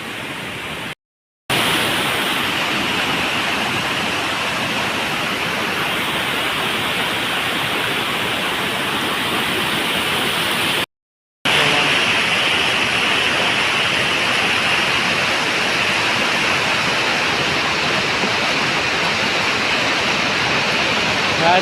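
A river runs high at a waterfall in the rain, making a loud, steady rushing roar close by, broken by two short gaps.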